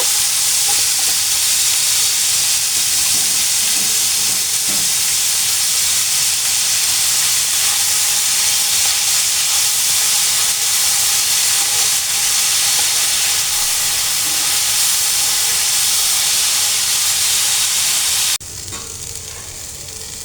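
Onion, garlic and green chili frying until reddish for a mashed bhorta, giving a loud, continuous close-up sizzle and hiss that holds steady before dropping slightly near the end.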